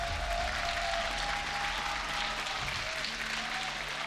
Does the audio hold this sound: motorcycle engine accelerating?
no